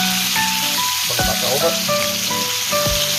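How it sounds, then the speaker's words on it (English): Steaks sear in a hot pan with a steady, close sizzle and crackle of frying fat, and a voice is briefly heard beneath it. "our steaks are cooking away nicely"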